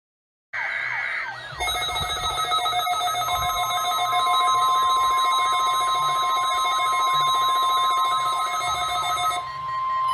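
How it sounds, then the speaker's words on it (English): A Midland WR-400 weather radio sounds its siren alert: a loud, continuous electronic warble of stacked steady tones with a rapid repeating pulse, starting after a brief higher beep and running unbroken for about nine seconds before cutting off. "here we go with the siren"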